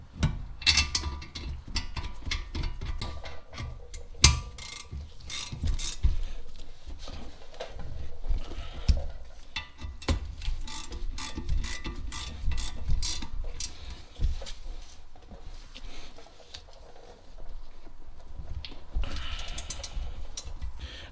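Ratcheting wrench clicks in bursts while bolts are snugged down to hold a brake rotor in place on a Chevy Trailblazer front brake job, with mechanical clanks and rubbing throughout, close and fairly steady.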